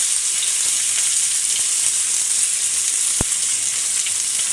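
Chopped onion, garlic and green chili frying in a pan. A loud, dense, continuous sizzle fills the whole stretch, broken only by one sharp tap near the end.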